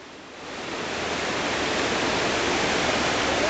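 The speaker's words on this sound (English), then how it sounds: "here's the river." A storm-flooded river rushes past in a broad, steady roar of churning water that swells in the first second and then holds loud and constant.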